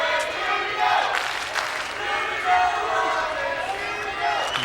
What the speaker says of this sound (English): And Haase's got his own cheering section out there.